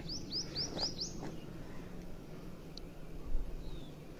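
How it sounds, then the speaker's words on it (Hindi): Birds chirp around the ruins of a demolished house in Prayagraj, opening with a quick run of five clear rising tweets, then a few sparse faint calls over low background hum. "आप जो चहचहाने की आवाज़ आप सुन पा रहे होंगे।"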